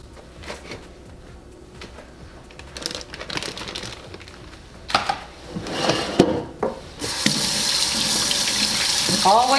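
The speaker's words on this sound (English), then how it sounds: "Always wash your hands." Hands being washed under a running kitchen tap, soft rubbing and splashing that builds into a loud, steady rush of water near the end, close by.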